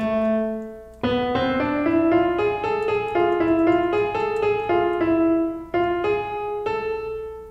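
A single melodic line steps up through a harmonic minor scale, one note at a time at a steady pace, with a brief pause near the end before the last notes.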